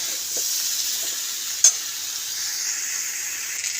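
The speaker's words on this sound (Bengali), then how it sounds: "তো এটা একটু কষা হোক ভালো করে। এই যে এরকম করে কষে নিতে হবে।" Spice paste is stirred and sautéed in a pan for a fish jhol with kohlrabi, making a steady close sizzle with one brief sharp clack of the utensil partway through and no talk.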